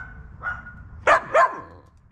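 A dog barks twice in quick succession, loud and close, after a softer whine-like yelp, with no talking during the barks.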